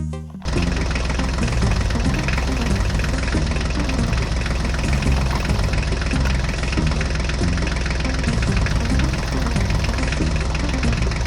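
A diesel mini tractor engine runs loudly and close, a steady rough idle with rhythmic knocking and no voices.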